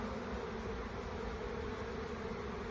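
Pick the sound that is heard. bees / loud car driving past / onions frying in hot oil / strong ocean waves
bees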